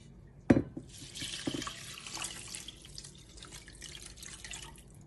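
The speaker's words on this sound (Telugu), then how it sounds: "కప్స్ ఆఫ్ వాటర్ దీంట్లో పోయాలి." Water poured into a cooking pot, measured by the cup, while making biryani; a clear splash and steady trickle run close by for several seconds, then taper to light dripping.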